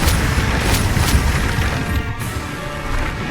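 Booming spell blasts from Bombarda in Hogwarts Legacy, a dense rumbling wash with several sharp bursts early on, loud and continuous with no voices over it.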